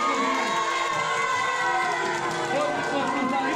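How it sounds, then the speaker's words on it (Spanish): A school crowd cheers and shouts loudly and steadily for the sixth grade class at a nuns' anniversary event in Tkon, with children's voices and chatter mixed into the din. "ajmo aplauz za šesti razred"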